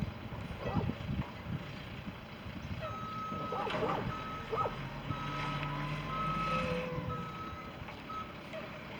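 Trash truck reversing at a distance, its backup alarm sounding a series of regular steady beeps over engine rumble and brake hiss, fairly faint outdoors.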